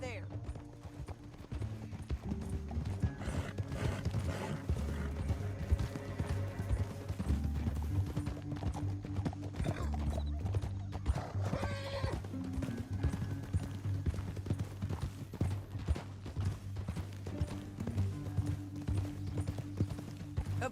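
Horses' hooves clatter in a steady rhythmic clip-clop while riding in Red Dead Redemption 2, close and fairly loud throughout, with game music and spoken dialogue layered over them.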